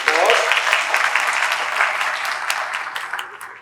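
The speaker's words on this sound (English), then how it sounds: "If we can give him a big round of applause." An audience at an elementary school's 50th anniversary celebration gives a big round of applause, loud at first and slowly tapering, with scattered individual claps standing out near the end.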